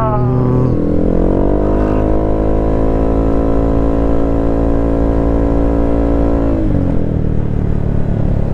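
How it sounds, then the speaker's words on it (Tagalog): A Honda motorcycle fitted with a Villain aftermarket exhaust and Sun Racing Spirit pulley revs up close, its pitch climbing and holding in a loud sustained roar before dropping back to a rumbling idle. "Sana napitigan yung ating villain exhaust"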